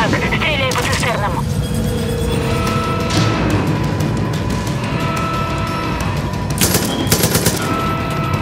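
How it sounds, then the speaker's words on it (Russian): Rapid automatic gunfire from Far Cry 5, aimed at tanks, crackles steadily through the whole stretch, with loud bursts near the start and end over a dense game soundscape of alarms and a voice. "Стреляй по цистернам!"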